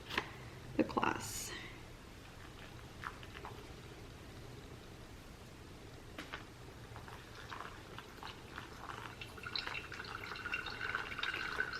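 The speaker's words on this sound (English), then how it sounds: "since I want to show you guys the coffee dripping" Pour-over coffee drips into a glass with soft, scattered trickles and taps. The drips are faint and close, under quiet low voices and room noise.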